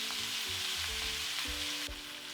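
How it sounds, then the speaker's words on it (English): Diced large white onion fries in a pan with a steady, close sizzle and crackle, with a few soft stirring scrapes and no talking. "Into this pan, add 1 large white onion diced. And cook it until it's caramelized or just browned."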